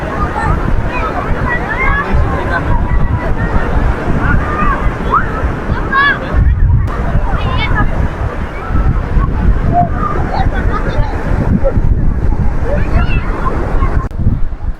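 Sea waves breaking on the shore at Somnath, a continuous loud wash of surf with wind buffeting the microphone and people talking over it.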